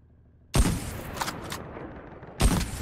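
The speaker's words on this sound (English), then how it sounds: "I'm so distracted by the sound of this gun" Two heavy bursts of DLQ gunfire in the mobile shooter Call of Duty: Mobile, loud and close, the first at the start and the second near the end, with a rumbling tail and faint game noise in between.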